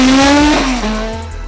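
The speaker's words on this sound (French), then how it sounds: "plus motivé que jamais et surtout bien entouré sur une monoplace type marche, moteur BMW ex-Christian Bourreau, excusez du peu." Single-seater race car with a BMW engine passing close by, a loud high engine note dropping in pitch as it shifts and fades, alone without voices.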